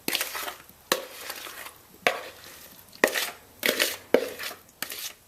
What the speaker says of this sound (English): Now I'm mixing this up really well into the baking pan, which I have oiled.